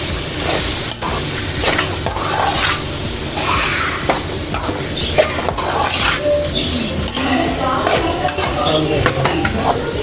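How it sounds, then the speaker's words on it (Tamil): Chicken stirred into masala in a pan for chicken 65 masala, with a spoon scraping and clinking against the pan over a steady sizzle, continuous and fairly loud throughout. "இந்த சிக்கனையும் சேர்த்துட்டாங்க. சேர்த்து நல்லா இப்படி மிக்ஸ் பண்ணிடுவோம்"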